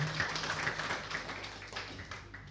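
A church congregation claps for God during a service, a soft, distant wash of many hands clapping steadily for a few seconds, slightly fading toward the end, with no voices.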